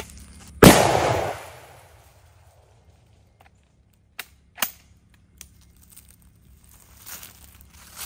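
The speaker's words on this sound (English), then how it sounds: "So this is a 145 grain 308 round out of the MAS-36." A MAS-36 rifle fires a single 145 grain .308 round into a bottle, producing one loud, sharp crack that rings out and decays over about a second, followed by quiet with a few faint scattered knocks and rustles.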